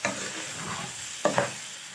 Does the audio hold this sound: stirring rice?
yes